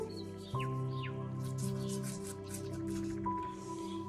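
A brush spreads glue across an egg in soft, wet squishing strokes, close and quiet, over a background of steady tonal hum and occasional chirpy tones.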